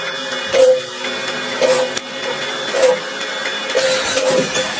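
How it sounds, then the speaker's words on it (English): A small grinding machine hums steadily while it polishes a chip on an iPhone 16 Pro Max logic board. The motor drone is loud and close and swells in four brief surges, with no voices. "First grinding process."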